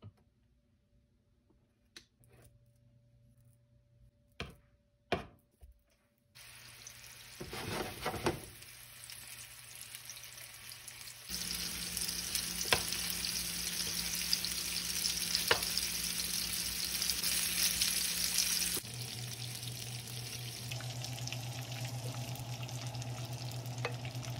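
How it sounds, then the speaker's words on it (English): Meatballs sizzle and crackle steadily in a hot frying pan after a few clicks and clatters, growing louder, with the sizzle shifting in tone near the end. "I'm gonna fry them up in the frying pan"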